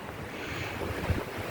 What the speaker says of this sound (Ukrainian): Вітер сьогодні, бачите, який?